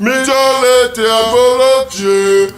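A processed vocal sound effect in a progressive house track sustains sung, harmonically rich tones, loud and close, shifting pitch a few times over about two and a half seconds with no other talk.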